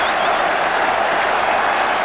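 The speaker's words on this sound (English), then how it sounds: "And the crowd going mad" A cricket crowd in Australia roars and applauds at a dramatic wicket, a dense, continuous wall of cheering and clapping that holds loud and steady throughout.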